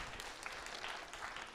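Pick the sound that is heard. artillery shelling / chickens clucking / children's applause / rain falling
children's applause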